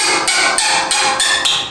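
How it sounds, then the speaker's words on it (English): A hammer strikes screws on the chopper of a Thunderbolt siren, giving five or six loud, sharp metallic taps at a steady pace, close up with no talking. "you can always take a hammer and tap it onto here"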